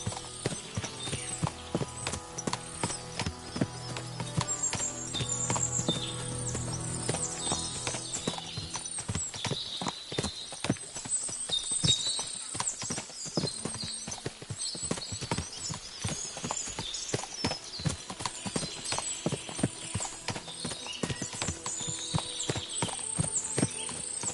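Rapid clip-clop of many hooves trotting steadily in Kingdom Come: Deliverance II, with occasional whinnies and creaking mechanical sounds over a continuous bed of noise.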